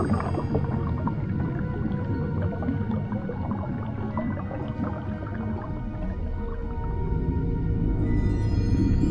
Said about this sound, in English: it looks like the spirit of a friendly sea lion